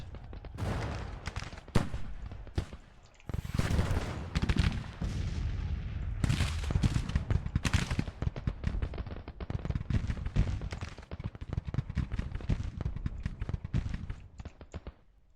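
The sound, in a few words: artillery and gunfire battle in Grand Tactician video game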